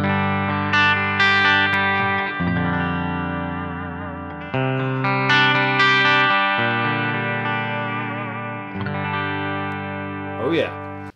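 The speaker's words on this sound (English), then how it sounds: "And this is with the reverb on." Distorted electric guitar through a Quilter amp with reverb on plays a series of sustained chords and riffs, each note washing into a spacious, lingering reverberant tail.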